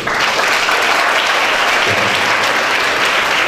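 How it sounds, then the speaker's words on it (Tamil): Sustained, dense clapping from an audience cheering a successful attempt at a rolling game, loud and steady throughout with no talk over it. "ஓகே, கொஞ்சம் நல்ல கைத்தட்டலாம் இருக்கு."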